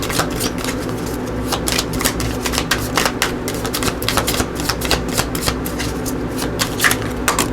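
A deck of oracle cards is shuffled briskly during a pick-a-card reading, making a rapid run of crisp flicking and riffling clicks that stay steady and close throughout, with no voices.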